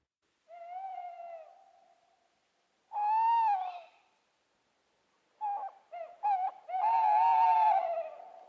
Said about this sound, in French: Un hibou appela.